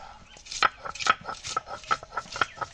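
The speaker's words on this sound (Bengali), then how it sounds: "ওইটা বাটি কাঁচা লঙ্কা আর ধনে পাতা এখন বেটে নেবো।" Green chillies and coriander leaves are ground on a grinding stone, a rhythmic series of about ten scraping, knocking strokes, close and clear with no talking.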